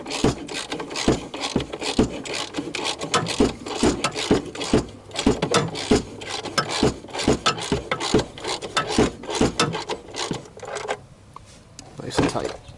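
Ratcheting wrench tightening the center bolt of an SRT4 engine mount, rapid metallic clicks in quick bursts with brief pauses, close up under occasional talk.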